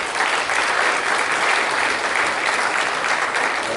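An audience claps for student presenters, a dense, steady wash of applause that holds evenly throughout, fairly loud with no voices standing out.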